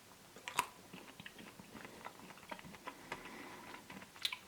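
Quiet crunching and chewing of a Cornetto Max mango and vanilla ice cream cone with white chocolate and fruit pieces, close and soft, with a few sharper crunches spread through a near-silent background.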